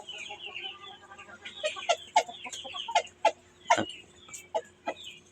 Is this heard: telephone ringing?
no